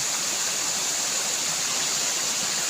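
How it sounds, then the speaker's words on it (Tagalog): Steady, dense rush of a waterfall, constant and broadband with no breaks, heard on its own without voices. "ayan oh, yung talon"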